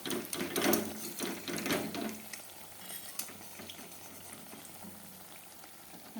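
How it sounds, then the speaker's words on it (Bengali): Eggplant fritters (beguni) fry in oil, a faint bubbling sizzle with a few rattling bursts early on that settles into a quiet, steady hiss. "এই যে বেগুনি কটা ভাজতে দিয়ে দিলাম"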